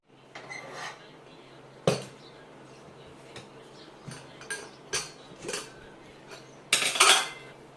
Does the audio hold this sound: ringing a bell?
no